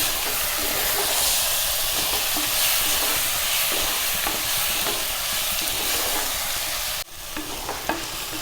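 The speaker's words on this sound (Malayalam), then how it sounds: "ഇനി നമുക്കിതിലേക്ക് മാരിനേറ്റ് ചെയ്ത് വെച്ചിട്ടുള്ള ചിക്കൻ ഉണ്ടല്ലോ അതിട്ട് കൊടുക്കാം" Marinated chicken fries in a pan over a high flame, a steady loud sizzle and hiss running throughout, broken by brief scraping stirs and a sharper clatter near the end.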